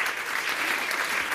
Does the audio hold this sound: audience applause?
yes